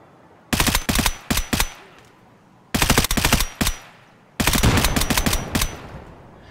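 Automatic gunfire in the video game Escape from Tarkov, three loud bursts of rapid shots with short gaps between, the last burst longer and denser, close and with no talk.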